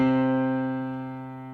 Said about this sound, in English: if you press them all at the same time, it would sound like this